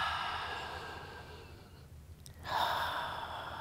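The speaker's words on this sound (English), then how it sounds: "As you exhale, if it feels good to you, you can blow it out your mouth." A deep breath is blown out through the mouth, a soft, airy exhale that fades, then a fresh breath in, quiet and close.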